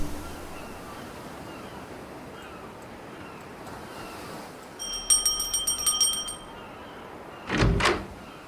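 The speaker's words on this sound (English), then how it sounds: "Doorbell." A doorbell chimes with a quick series of bright ringing tones, followed by a short rattling burst, heard against a quiet background.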